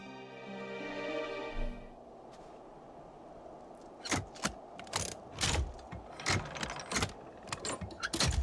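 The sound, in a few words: engines being repaired in a video game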